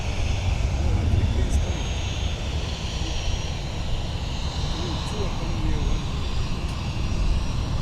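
Airplanes at MSP airport during evening plane spotting: a steady, fairly loud jet engine rumble and roar with a faint whine, while voices and radio chatter run over it.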